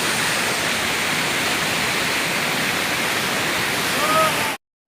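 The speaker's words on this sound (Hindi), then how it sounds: "कितना ऊंचाई से देखिए झरना आ रहा है।" A waterfall plunges from a great height beside the steep Kedarnath trek, a loud, steady broadband roar that fills the air without a break. A faint higher whistle or call rises briefly near the end.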